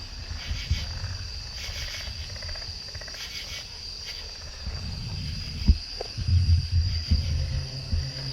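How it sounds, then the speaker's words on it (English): Frogs and insects calling from trees at night, a dense steady chorus of trills and chirps at middling distance with some low rumbling underneath and a brief sharp knock partway through. "the frogs having an orgy or something"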